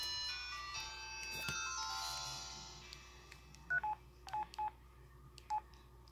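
Keypad tones on an Audiovox CDM-8600 Verizon flip phone: about six short, quiet, clean beeps pressed one after another at an uneven pace, following a soft ringing chime at the start.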